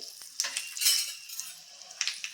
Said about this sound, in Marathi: थोडीशी परतून घेऊयात उडदाची डाळ